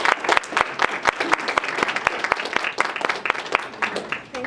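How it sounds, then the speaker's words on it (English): Audience applause for the CEO of Techtorium, a TechTalk sponsor, being introduced at a New Zealand tech event: dense, steady clapping from a sizeable crowd with sharp individual claps standing out, sustained throughout. "Please, big round of applause."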